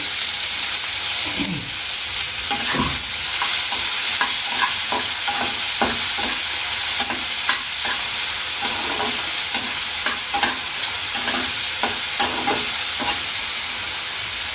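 Chopped onion and tomato frying in a pan for a paneer mushroom dish, a constant loud hiss of sizzling with repeated scraping stirs of a spatula at an irregular rhythm, close up and without speech.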